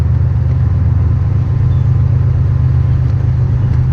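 The engine of a 1962 Corvette with a full 2.5-inch exhaust system gives a loud, steady, deep rumble that stays constant throughout, close up and without talk.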